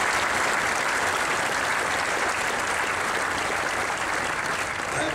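An audience at a talk in Toronto claps in sustained, even applause for about five seconds, a dense wash of many hands with no break.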